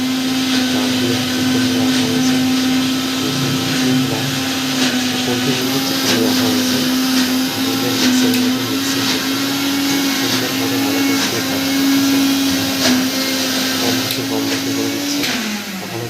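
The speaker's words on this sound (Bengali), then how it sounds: "মিক্সারের মধ্যে পেস্ট এই যে পেঁয়াজগুলো আছে পেঁয়াজগুলো পেস্ট করব রসুন পেস্ট করব" A mixer grinder whirs loudly and continuously while making onion and garlic paste, a steady high motor drone with a slight pitch dip near the end before winding down.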